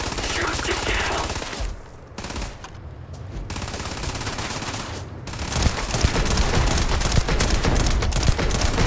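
Loud bursts of automatic gunfire and rapid shots from combat in Starfield, with a brief lull before the shooting resumes densely and continuously.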